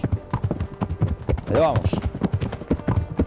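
Horse hooves clip-clop in a steady trotting rhythm in the medieval game Kingdom Come: Deliverance, fairly close and loud, while someone talks over them and a brief tonal call rises midway.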